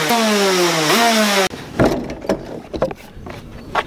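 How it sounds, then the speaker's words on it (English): A rally car engine being run in on a course buzzes loudly at high revs with a rising pitch, then cuts off abruptly, leaving scattered knocks and bumps. "We are going to run in the engine"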